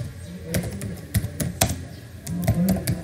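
Typing on a computer keyboard while building a school management system in Excel, a quick irregular run of close, light key clicks and taps at moderate loudness.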